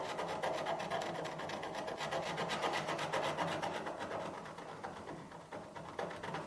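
Winter bark is scraped from a birchbark canoe by hand, a close, steady rasping rub with fine repeated strokes, fairly quiet and with no voices.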